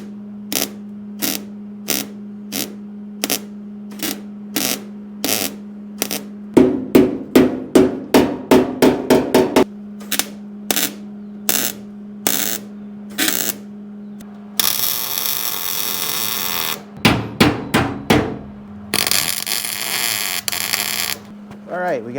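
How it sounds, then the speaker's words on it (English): Welding on new cab mounts of a Ford Dentside truck: rows of short, sharp crackling tacks over a low electrical hum, broken by two longer continuous buzzing arc runs, loud and close. "I'm gonna run some weld up across that."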